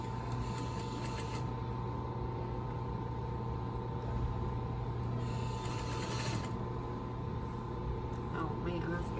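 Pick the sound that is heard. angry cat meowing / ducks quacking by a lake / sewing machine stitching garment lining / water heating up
sewing machine stitching garment lining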